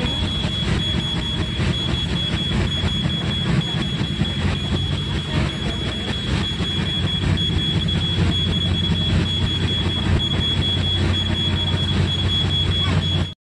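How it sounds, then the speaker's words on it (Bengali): A train pulls out of Bidhannagar Road station on the Sealdah–Siliguri line, giving a steady, loud rumble of rail cars and wheels with a faint high tone above it, continuous throughout. "ট্রেনটি ছেড়ে যাচ্ছে বিধাননগর রোড থেকে।"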